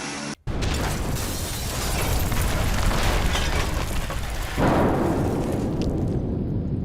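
Explosives detonate and blow up a house in Gaza, caught on news footage: a loud, close, roaring blast that surges and rumbles on for several seconds without dying away.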